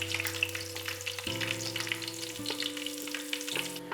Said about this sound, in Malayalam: അപ്പോൾ നമ്മുടെ കൊച്ചുള്ളി ജസ്റ്റ് ഒന്ന് നമ്മൾ മൂപ്പിച്ചെടുത്തിട്ടുണ്ട്